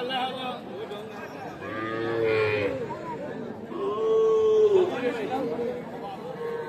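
At a busy cattle market, a three-month-old crossbred bull calf lets out a couple of drawn-out moos, close by, amid crowd chatter and people talking nearby.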